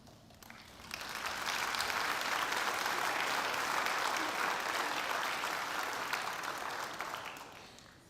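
Audience applause at a National Honor Society induction ceremony, a broad, even wash of many hands clapping that swells up within a second, holds steady, then tapers away at the end.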